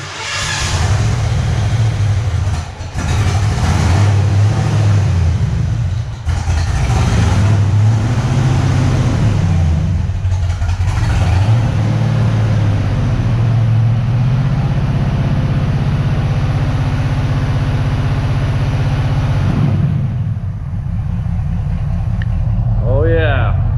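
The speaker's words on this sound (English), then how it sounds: "Nasty exhaust leak." A 1986 Ford Mustang GT engine with an exhaust leak runs loud and rough for a long stretch, revving unevenly with a raspy, ticking exhaust note, while people talk nearby.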